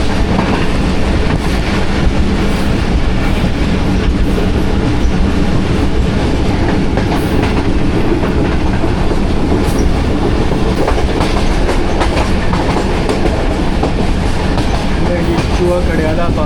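Riding aboard the Jaffar Express passenger train near Chua Kadiala, a steady loud rumble of wheels on track fills the space, with continuous clatter and occasional faint squeal throughout.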